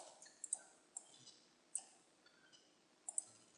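A computer mouse clicking in album design software, a few sharp isolated clicks spread out over a few seconds, quiet and close, with faint background hiss and no speech.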